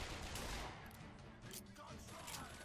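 Rapid gunfire from BioShock Infinite combat, a dense burst of shots through the first second, then continued scattered firing at moderate loudness over a noisy game mix.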